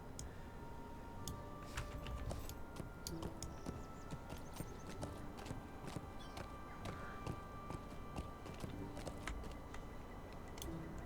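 Horse mount hooves in Lord of the Rings Online, a steady, moderately close clip-clop of repeated hoofbeats at an even walking rhythm over a soft game background.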